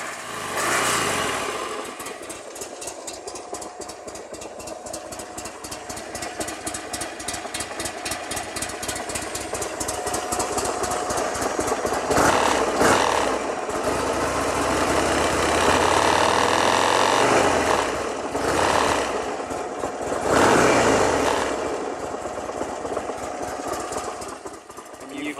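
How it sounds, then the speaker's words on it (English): A 2003 Buell XB9S Lightning motorcycle with stock exhaust idles steadily with a rapid, uneven burbling exhaust, loud and close, revving up briefly a couple of times. "I don't like the way the stock exhaust sounds on this bike"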